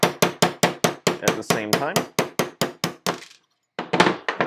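A steel pin being hammered out of a Walther pistol frame, about a dozen sharp metallic hammer strikes in a quick steady rhythm, close and loud, with a brief pause and then more blows; a voice speaks briefly.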